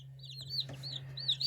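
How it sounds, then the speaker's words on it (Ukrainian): Newly hatched chicks give a few high, thin peeps in quick succession over a low steady hum. "Вийшли такі чудові пташечки."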